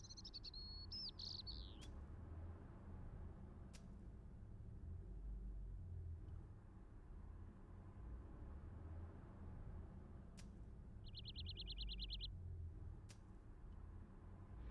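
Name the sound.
traffic drone in Broken Sword video game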